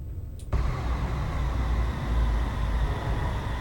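A Class 222 diesel train engine in Train Simulator 2020 sets off with a sudden broad rumble and then holds a steady, moderately loud, noisy drone.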